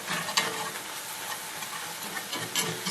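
Onion gravy seasoned with salt and black pepper is stirred in a hot pan, a steady close sizzle with scraping stir strokes and small clicks throughout.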